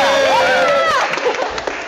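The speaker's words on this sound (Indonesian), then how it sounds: "tepuk tangan" Applause breaks out on a children's biology quiz show after team two posts a record score of 100, with dense clapping and excited shouting voices over it throughout.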